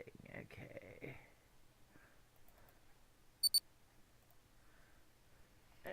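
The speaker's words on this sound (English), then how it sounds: "I needed a beeping noise for it" A pair of quick, high-pitched electronic beeps rings out in the middle of an otherwise quiet stretch, meant as a bomb's beeping, with brief talk just before it.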